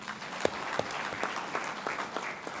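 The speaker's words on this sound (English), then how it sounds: "Another big clap for the Minister." Audience applause for the Minister at the opening of a national healthcare quality improvement conference, with steady hand clapping from a moderate crowd and a few sharper nearby claps standing out.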